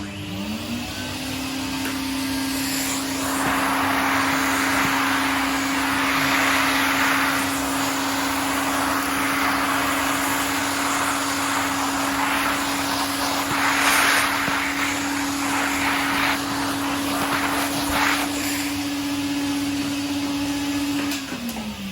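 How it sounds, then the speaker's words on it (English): A Hoover vacuum cleaner starts up and runs steadily for about twenty seconds with a loud, constant motor whine and airy roar, shifting slightly as it moves, then winds down at the end. "maybe we'll get the Hoover going, eh?"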